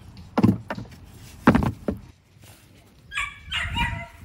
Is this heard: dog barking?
yes